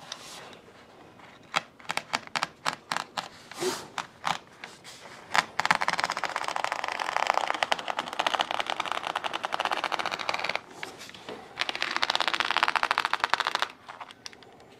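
Scissors snip repeatedly along the edge of drawer and shelf liner clamped to a table, first in quick separate clicks, then in longer continuous crunching cuts, close and clear with no talking.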